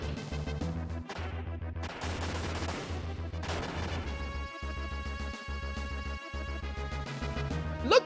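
Vulcan cannon fire from a quad mech in the video game Front Mission: Gun Hazard, heard as rhythmic, punchy bursts of retro shots under continuous game music, with a brief pause before the weapon resumes.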